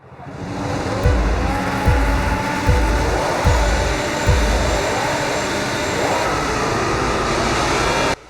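Formula 1 cars launching off the grid at the Japanese Grand Prix start in the F1 26 video game, a loud dense engine roar with about five rising surges as gears climb, then a sustained howl.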